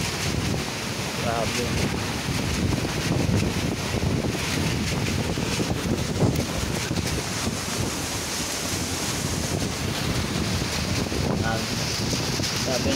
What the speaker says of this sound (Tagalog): So medyo malakas na yung hangin dito mga par.